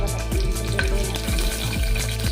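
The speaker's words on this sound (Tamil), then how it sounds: "தக்காளி வெங்காயம் நல்லா வதக்கி வைப்பேன்" Onions and tomatoes sautéing in a pan for a roasted masala, a steady close sizzle and frying hiss with periodic low stirring thumps and scrapes, no voices.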